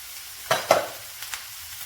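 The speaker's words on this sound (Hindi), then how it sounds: "अब हम इसमें गाजर डाल देंगे क्योंकि गाजर थोड़ी सी हार्ड होती है, ताकि वो नरम हो जाए।" Carrots for a samosa filling fry in a pan: a quiet sizzle with two quick, sharp scraping stirs close together, then fainter ones, heard up close with no voices.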